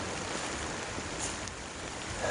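Steady broadband hiss of rain falling outdoors on a Michigan hay farm. It is faint and continuous, with no speech.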